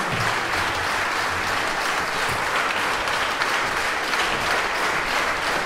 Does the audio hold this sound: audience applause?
yes